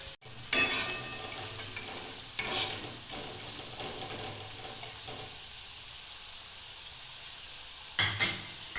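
Potatoes frying in a pan over low gas, a soft steady sizzle broken by a few sharp scraping stirs and clatters of a spatula.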